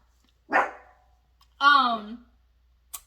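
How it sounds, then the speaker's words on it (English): Dog barking indoors: two separate loud, close barks about a second apart, each followed by quiet, and a brief click at the end. "Polo be barking"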